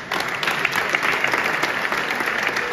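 An audience at a company open day event claps warmly, a dense, steady burst of applause filling the room, close and loud with no talking over it.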